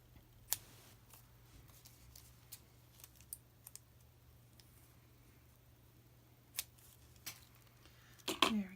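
Scissors cut the ends of a plastic slider card, making a few faint, sharp snips and clicks spaced apart in a quiet room, ending with a brief rustle.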